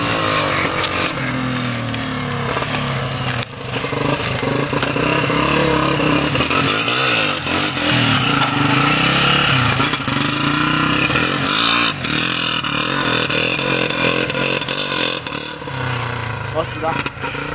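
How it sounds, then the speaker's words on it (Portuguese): Motorcycle engine revving loudly and steadily in a video game as the rider jumps, continuous mid-pitched roar filling the whole stretch with small surges, with a voice talking over it. "aí eu vou pular de moto lá"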